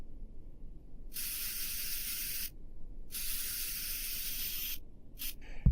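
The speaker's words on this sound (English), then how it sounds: "And then let's spray it back." The spray tool in Oculus Medium sculpting software gives two long, even bursts of bright hiss, then a shorter third burst, each separated by near silence.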